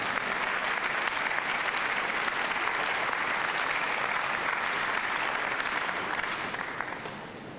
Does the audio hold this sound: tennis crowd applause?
yes